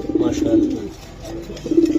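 Close, low cooing from racing pigeons in two soft rolling phrases with a short pause between them.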